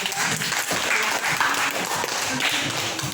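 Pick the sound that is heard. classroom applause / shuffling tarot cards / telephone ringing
classroom applause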